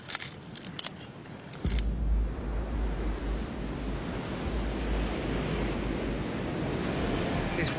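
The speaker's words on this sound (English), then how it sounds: "The waves are huge that are crashing in." Huge surf crashes continuously on the shore of a windy Fijian island, a steady broadband roar of breaking waves with wind buffeting the microphone, no voices.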